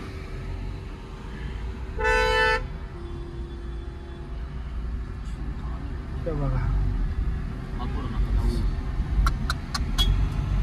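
Cars stuck in a traffic jam on a mountain ghat road honk, one long horn blast early on and a few short beeps near the end, over idling engines and nearby voices.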